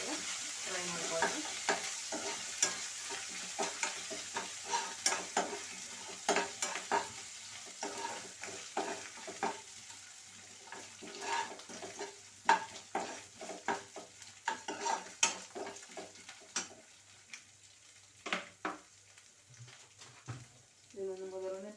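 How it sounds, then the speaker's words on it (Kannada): Spices with turmeric powder stirred and fried in a pan for khara pongal: a soft sizzle runs under repeated scraping and clinking of a spoon against the pan, fairly quiet and close. "ಫ್ರೈ ಮಾಡ್ಕೊಳ್ಳೋಣ."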